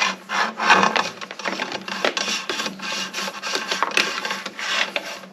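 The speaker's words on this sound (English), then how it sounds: "First, I'm going to slide the transducer cable through." A transducer cable slides through the cable track of a Garmin Force trolling motor, giving a close, uneven series of scraping and rubbing strokes with no talk.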